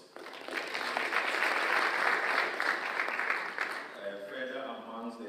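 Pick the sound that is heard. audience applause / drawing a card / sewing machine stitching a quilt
audience applause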